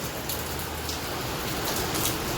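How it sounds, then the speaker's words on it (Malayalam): Heavy rain pours steadily and densely in a village, a constant close wash of falling water with no voices over it. "ഭയങ്കര മഴ ആയതുകൊണ്ട് കയറി നിൽക്കുകയാണ്"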